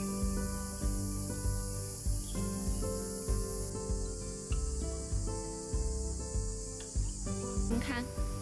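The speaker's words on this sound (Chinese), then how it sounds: "哇，你们有没有听到这个蝉叫？" Loud, steady cicada chorus in a hillside park, a dense continuous buzzing drone that pulses in rhythmic swells throughout, close and prominent with no talk over it.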